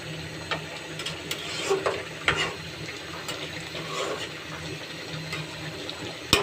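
A spoon stirs prawn curry in a pan, giving scattered scraping and clinking knocks over a steady low cooking hiss, close and moderately loud, with no speech.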